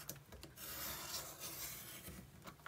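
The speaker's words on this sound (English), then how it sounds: "just cut on the inside track with my red blade" A craft trimmer's red blade slides along its track, slicing through a photo with a soft, faint scraping rasp, a couple of short strokes in a quiet room.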